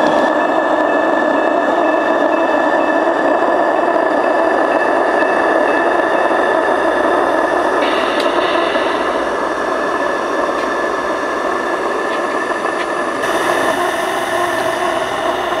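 Accucraft Tornado gauge 1 live steam model locomotive with radio control running, a continuous loud hiss and rumble of steam and machinery held steady throughout, with no talking.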